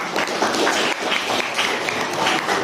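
A classroom group applauds presenting students with dense, continuous clapping from many hands, loud and steady for the full stretch.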